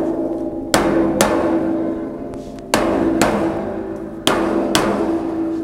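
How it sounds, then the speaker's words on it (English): A rubber hammer knocks shelves into place on a VEVOR outdoor food prep table: three sharp, solid thuds spaced a second or two apart, each with a short ringing metallic decay, close and with no talking. "your regulation rubber hammer or a block of wood and another hammer"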